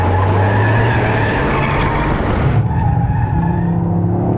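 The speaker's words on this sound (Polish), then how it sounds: "to sapanie tam z tyłu tego wydechu jest cudowne." A loud Toyota GR Yaris exhaust huffs and rumbles close by, with a broad rushing roar that drops off partway through into a lower, throbbing burble.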